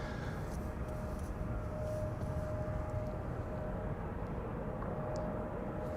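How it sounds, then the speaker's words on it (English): At Amsterdam Schiphol, a Saudi Cargo plane arrives on the central runway with a continuous jet rumble and a thin steady whine riding over it, sustained and even at moderate distance. "Saudi Cargo in the meantime arriving on the central runway."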